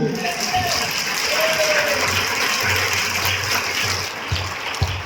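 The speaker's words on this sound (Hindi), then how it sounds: "हम जोरदार तालियां बजाएंगे।" A church congregation at an end-times message service applauds loudly, with a dense wash of clapping that runs steadily throughout and sounds somewhat muddied and watery.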